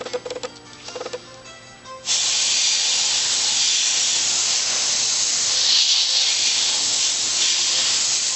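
An airbrush sprays color through a stencil onto a fondant-covered cake, a steady close hiss lasting about six seconds after a few short bursts, with no talking.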